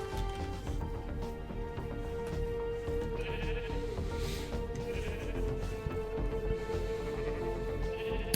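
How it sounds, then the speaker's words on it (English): Sheep bleat in the Minecraft video game during a survival world session, several short calls repeating over a steady, dense background of game music and ambient sound. "lure some sheep over, get them to breed"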